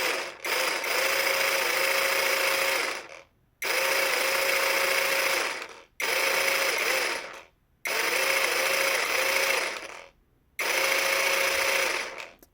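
A Parkside PPSTDA 20-Li A1 cordless top-handle jigsaw buzzes at its lowest speed setting in five separate runs, each a couple of seconds long with short silent gaps between, loud and close with no talking.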